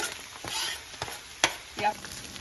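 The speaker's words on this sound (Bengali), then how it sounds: "যে তেলে চিকেনগুলো ভেজে নিয়েছি এখন সেই তেলেই পেঁয়াজ কুচি দিয়ে দিচ্ছি" Chopped onions dropped into hot oil left from frying chicken, giving a soft sizzle with a few sharp stirring scrapes and clinks close by, no voices.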